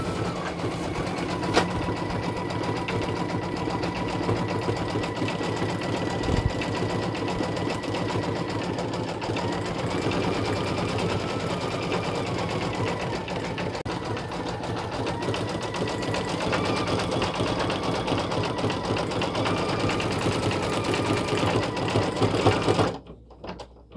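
An embroidery machine stitches a name patch with a continuous close mechanical whir and rapid needle rhythm, running steadily for over twenty seconds before cutting off abruptly.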